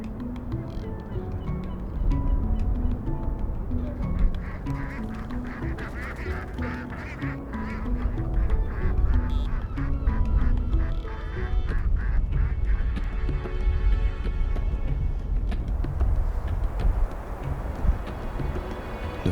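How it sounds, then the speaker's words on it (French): Ducks quack steadily in a busy chorus, many calls overlapping at close range, with no talking throughout. "Nous finirons notre échappée en compagnie des canards qui nous accueillent dans leur intimité."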